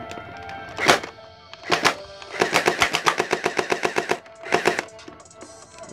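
An electric Kriss Vector water gel blaster toy fires in short bursts and then a rapid string of about a dozen evenly spaced shots, each a sharp mechanical thunk with a whirring motor, close up with no talking.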